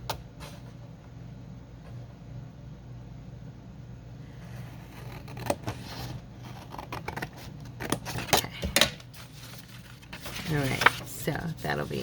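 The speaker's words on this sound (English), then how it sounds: "So I'm going to be trimming this piece here." Scissors trimming a paper journaling pocket piece, a few crisp, close snips and paper rustles growing busier toward the end, with a person speaking over the cutting.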